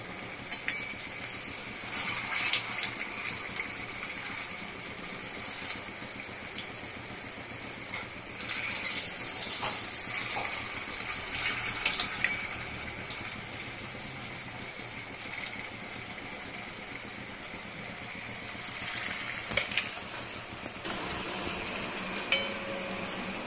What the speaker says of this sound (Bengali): এখন আমি কোফতাগুলো ভাজবো।